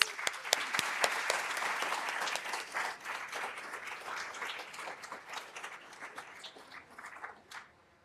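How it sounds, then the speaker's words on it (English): Audience applause fills the room at a Boston innovation event, a dense, steady wash of clapping from a sizable crowd that gradually thins and fades toward the end. "So let's please give them a round of applause."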